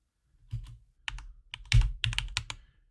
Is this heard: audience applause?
no